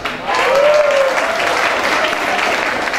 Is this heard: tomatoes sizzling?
no